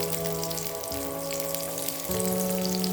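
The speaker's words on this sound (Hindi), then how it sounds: "इन सबको अच्छा सा क्रिस्पी होने तक घी में फ्राई कर लेंगे।" Cashews and fox nuts fry in hot ghee with a loud, steady sizzle and crackle, heard close up and continuous without talk, while a faint hum shifts pitch underneath.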